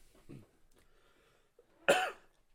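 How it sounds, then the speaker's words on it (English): After a faint throat noise and near silence, one short, sharp cough comes close to the microphone. "You wait for that moment to cough."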